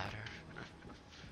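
A wild dog in the Resident Evil 4 Remake whimpers and pants softly at a distance, a brief faint whine over the game's background ambience.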